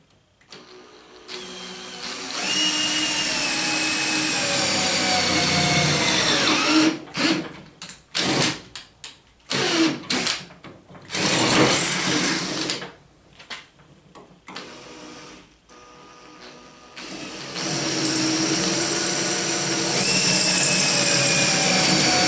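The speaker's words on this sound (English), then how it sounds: "So I'm going to start with a 1/4 inch tap drill." A power drill with a 1/4 inch tap drill bit whines loudly in repeated bursts, stopping and starting in quick succession before running steadily again toward the end.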